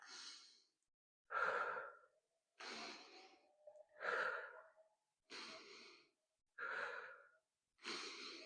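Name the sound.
exhaling breath during core exercise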